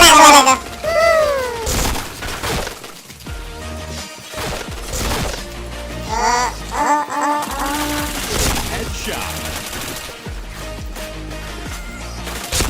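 Video game gunfire with rapid bursts and crashes that come in clusters, mixed with game sound effects, music and talk.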